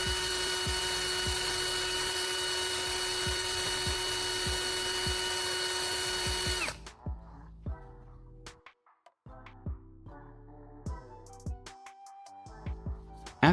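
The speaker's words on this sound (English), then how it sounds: "With a sanding disc, I'm carefully sharpening the tip of the carbon rod." Rotary tool with a sanding disc sharpening the tip of a carbon rod, a high steady whine for several seconds with rhythmic grinding ticks, then the motor stops and scattered clicks and handling noises follow.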